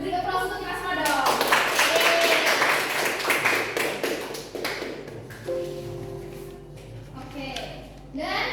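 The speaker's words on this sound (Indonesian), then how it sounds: "Kita beri aplaus untuk kita semua dong." Classroom applause from a group of students, a dense burst of clapping lasting several seconds that thins into scattered claps, with a teacher and children talking over and after it.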